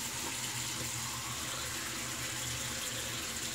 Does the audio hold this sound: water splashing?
yes